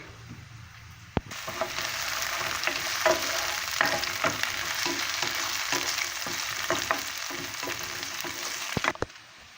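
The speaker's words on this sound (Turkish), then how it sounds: "Bir taraftan da soğanımız soteleniyor ocakta." Onions sauté in a hot pan on a stove for a squash blossom dish, a loud, continuous frying hiss with occasional crackles, close up.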